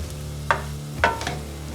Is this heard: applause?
no